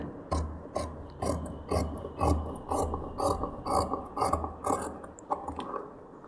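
Scissors cut blouse fabric around the back neckline in a quick run of close, crisp, rhythmic snipping strokes with no talking.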